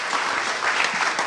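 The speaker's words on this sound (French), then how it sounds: "on l'applaudit bien fort. Salah." Loud, steady applause from a conference audience, a dense wash of clapping that holds for about a second without letup.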